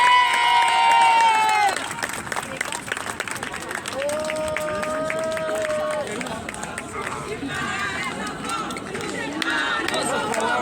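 A crowd at a street demonstration in Brussels claps and cheers, with whistles and shouted voices over a continuous bed of applause, and people talking close by throughout.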